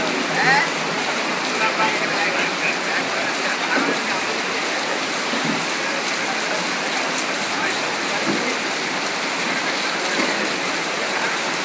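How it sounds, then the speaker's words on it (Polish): Heavy tropical rain in Sri Lanka pours steadily in a dense, unbroken hiss for the whole stretch, with faint muffled voices in the background. "nie ma żartu z deszczem. Jak pada to na całego"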